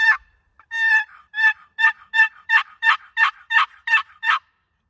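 A turkey box call yelps in a series of about eleven raspy, evenly spaced notes, loud and close, with no other sound.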